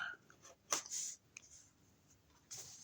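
A craft knife blade cuts around paper for a steampunk clock album scrapbooking kit: short, close scraping strokes with a sharp scratchy burst near the middle and another at the end, quiet between, no talk.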